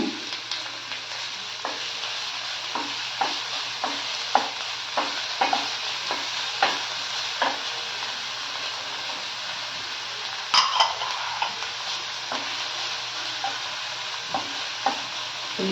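Small capsicum pieces sizzle steadily in a pan for samosa filling, with a constant frying hiss and repeated scraping stirs of a spatula at an even rhythm, close and alone.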